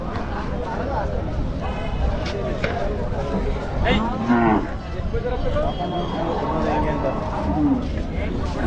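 Hallikar cattle moo at a busy outdoor cattle market, with several long calls heard over constant crowd chatter and people talking nearby.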